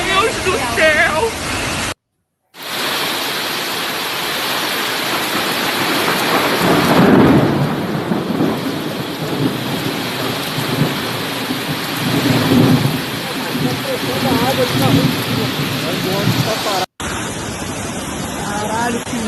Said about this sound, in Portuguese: Parece uma bomba d'água!